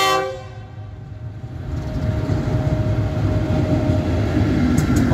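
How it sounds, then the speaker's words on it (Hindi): A Pakistan Railways locomotive passes close by in Lahore, its engine a loud, steady rumble that builds over the first seconds, with a sustained horn-like tone running through it and metallic clanks near the end. "एक लोकोमोटिव यहाँ से गुजर रहा है"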